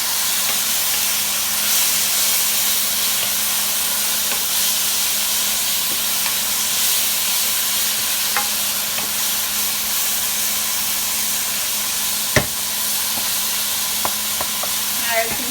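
Ingredients for a shrimp biryani toast over heat in a pan, giving a steady, close hiss and crackle throughout, with a few sharp clicks near the end.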